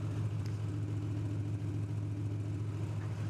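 A car fitted with a full aluminum exhaust idles at an autocross event, giving a steady low, throaty hum with an even pulse, close and continuous, with no talk.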